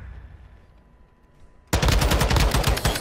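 A TAQ-V rifle in a video game breaks a quiet lull with loud, rapid automatic gunfire, a dense burst of shots close up continuing to the end.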